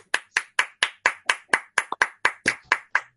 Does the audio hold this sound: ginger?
no